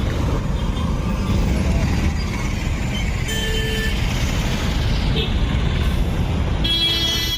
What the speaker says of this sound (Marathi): खूप भयानक ट्रॅफिक झालेली आहे.